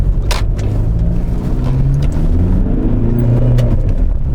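An Audi A8 D3 engine pulling under acceleration while driving, a loud steady rumble rising in pitch with road noise and no talk.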